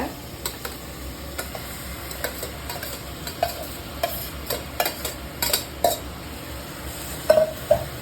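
Capsicum and paneer, marinated, being stirred into cooked tomato in a frying pan, giving soft scraping stirs and a light sizzle with occasional sharp ticks of a utensil against the pan, close and steady.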